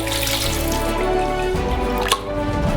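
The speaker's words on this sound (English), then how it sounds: "we fill it up with water" Water runs from a tap into a metal saucepan for cooking potatoes, a steady pouring rush whose pitch shifts as it fills, with a small clink near the end.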